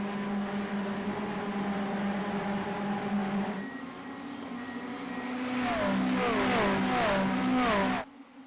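Ferrari GT3 race cars at the Hungaroring in iRacing, engines droning steadily and then rising in a pitch sweep as several cars rev and shift through gears, loud and close before cutting off abruptly.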